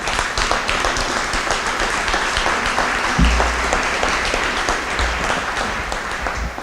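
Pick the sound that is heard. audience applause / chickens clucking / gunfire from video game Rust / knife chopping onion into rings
audience applause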